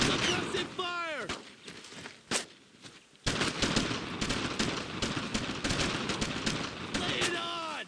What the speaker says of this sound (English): Fire! Firing! Suppressive fire!